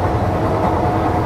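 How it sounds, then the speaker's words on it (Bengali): An AC local train runs at speed on the Ranaghat line, a loud, steady rumble of wheels and carriage noise heard from inside the coach, with no talk. "এইটা হচ্ছে এসি লোকাল ট্রেন"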